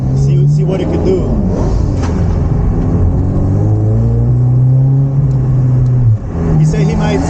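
A V8 car accelerates hard on a test run, a loud, close engine rising steadily in pitch with a brief dip near the end, while a voice talks over it.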